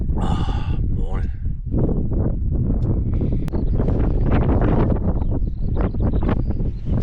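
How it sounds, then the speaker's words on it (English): Gusty wind on a High Pennine hilltop buffets the microphone in a continuous loud roar, with brief rustling and flapping mixed in throughout. "This wind, it's got me blown about."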